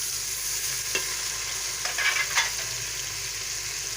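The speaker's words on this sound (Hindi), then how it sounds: "प्याज हमारे ब्राउन हो रहे हैं।" Onions and tomatoes fry in a pan, a steady broad sizzle running throughout with a few brief stirring scrapes and clinks near the middle, close and without talk.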